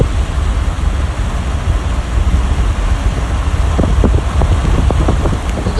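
Floodwater rushing after heavy rainfall in New York, a steady broadband roar that fills the whole clip, loud and continuous, with some sharper splashes and gurgles toward the end.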